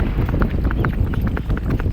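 Horse hooves clip-clop steadily during a wedding procession in Jalalpur, a fast, even rhythm of close hoofbeats over a dense low rumble of crowd and street noise.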